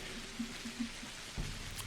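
Rain falls across the town in the video game Pathologic, a soft steady wash of drops with a few low muffled thuds underneath, faint and continuous with no voices.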